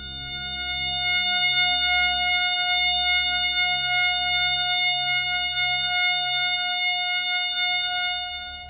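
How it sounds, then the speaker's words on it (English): A steady synthesized F sharp major chord hums continuously, a bright sustained tone with a low pulsing undertone, heard alone without any talking. "3600 vibration cycles create the A sharp needed to complete yet another F sharp major chord"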